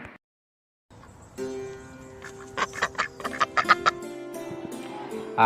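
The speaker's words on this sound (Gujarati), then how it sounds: "ડક એટલે બતક બતક કેવી રીતે અવાજ કરે" A duck quacks in a short burst of several nasal calls, close and fairly loud, after a brief silence.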